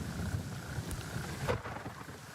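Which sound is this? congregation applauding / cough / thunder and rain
thunder and rain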